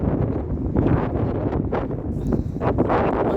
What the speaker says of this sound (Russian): Но ветер очень сильный.